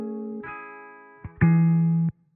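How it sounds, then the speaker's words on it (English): A handful of electric guitar notes sound muffled and dull, their brightness trimmed away, each held briefly before cutting off. "I have this low pass filter which sounds like this"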